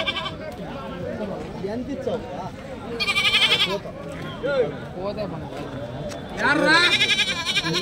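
Goats bleating at a busy weekly goat market in Kadiri, with several loud, wavering bleats close by over a constant crowd murmur and people talking throughout.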